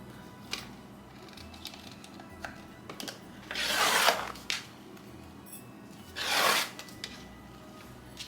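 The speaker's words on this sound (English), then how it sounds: "So I'm just trimming a little off each end" Scissors cut through the ends of a fabric bag in a home craft setting, making two drawn-out, close rasping crunches with a few light ticks and rustles in between, with no talking.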